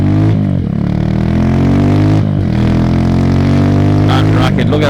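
Honda FTR 223 motorcycle engine revving up close, loud repeated throttle blips with a rough, rattly single-cylinder bark and sharp pops near the end.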